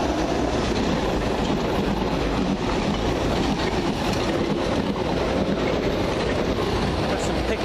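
London Underground Piccadilly line train passing near Stamford Brook, a steady loud rush of wheels and rail noise with faint clattering, sustained for several seconds without a break.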